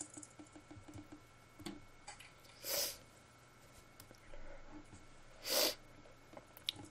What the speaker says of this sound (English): I apologize for all the sniffing